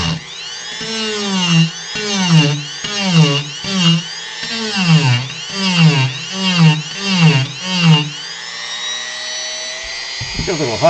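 High-RPM rotary carving tool cuts into a model continent for a Final Fantasy V map, its whine rising and sagging in repeated strokes as the speed drops under load, close and loud, then settling into a steady high spin.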